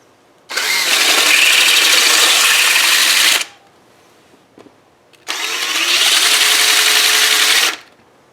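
A flapper sander grinds the outside bevel of a coin ring, a loud, steady broadband whir running for about three seconds, stopping briefly, then starting again for a second similar burst.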